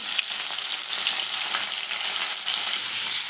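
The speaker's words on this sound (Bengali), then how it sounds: "হলুদ দিয়ে সুন্দর করে লবণ দিয়ে মেখে নেব মাছগুলো তারপরে ভেজে নেবো সবগুলো মাছ" Giant river prawns coated in turmeric and salt fry in hot oil, giving a steady, dense sizzle with faint crackles throughout, close and fairly loud, with no talking.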